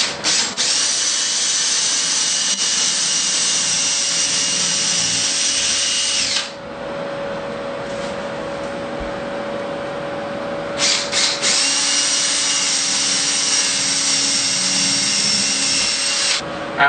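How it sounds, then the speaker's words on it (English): Power drill boring quarter-inch pilot holes through Onyx wall panels during an installation, running loud and steady in two long bursts separated by a quieter pause of a few seconds. "we're just going to pre-drill a 1/4 inch hole through the Onyx wall panels."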